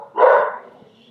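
A single dog bark, loud and close, bursting out briefly and then trailing off into quiet, with no talking over it.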